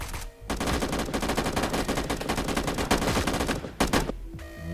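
Sustained rapid automatic AK5 rifle fire in the shooter game BRM5, a dense, loud continuous burst of shots lasting several seconds, ending with a few separate cracks.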